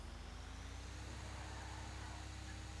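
A truck in GTA 5 roleplay, on a trucking job, pulls away with a steady, continuous engine drone and low rumble that holds evenly throughout.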